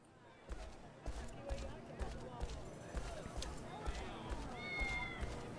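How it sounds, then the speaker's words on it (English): Cat meowing in the Shenmue 3 video game: faint, distant mewing buried in a busy ambient game soundscape with rhythmic thumping footsteps, with a clearer high cry near the end. "I hear that cat again."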